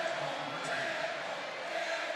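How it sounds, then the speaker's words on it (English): Student section crowd noise fills a sold-out Mackey Arena during a women's college basketball game, Iowa against Purdue, as a steady, dense roar that holds at an even level throughout, with a commentator's voice faintly mixed in. "We're hearing this student section."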